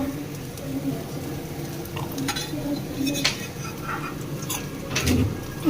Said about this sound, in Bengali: বাচ্চার মা এখন বড় ভাজছে